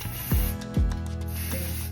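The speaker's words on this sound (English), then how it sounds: "Spray the base." Hairspray hisses onto the base of a section of hair in two short, close bursts, one after the other, with no talking.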